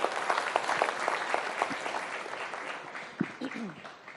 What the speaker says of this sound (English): Please applaud louder.